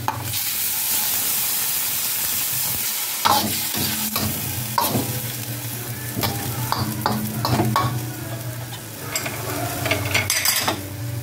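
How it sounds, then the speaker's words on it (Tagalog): Marinated chicken and garlic frying in a pan, a steady loud sizzle broken by repeated stirring scrapes and utensil clinks, close up, no talk. "Tapos hulog na natin yung chicken marinated."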